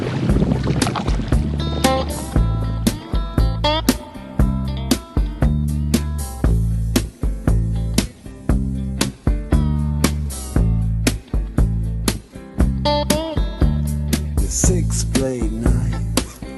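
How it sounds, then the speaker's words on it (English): A canoe being paddled on the Yukon River during a long-distance canoe race, with repeated close knocks and splashy strokes in a steady rhythm under buffeting wind. "Still paddling though. Still paddling."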